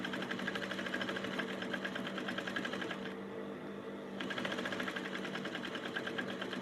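A sewing machine running slowly while stitching a button shirt blouse, a steady close mechanical whir that pauses for about a second midway, then resumes.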